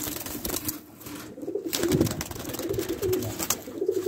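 Doves cooing near a nest being built by the male and female, with soft repeated low coos sounding close and moderately loud over a light background hiss; no one speaks.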